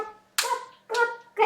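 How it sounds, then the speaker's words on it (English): Sharp hand claps, three of them, spaced about half a second apart, each striking crisply and fading quickly, close up and with no talk over them. "1, 2, 3, clap."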